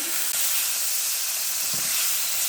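Tomatoes frying in oil for moong dal sambar, giving a loud, continuous close hiss of sizzling with a couple of faint knocks underneath.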